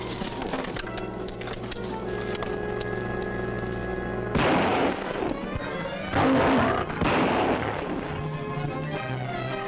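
Gunshots ring out in an old jungle adventure film serial: several loud, broad blasts burst over a dense, steady soundtrack bed.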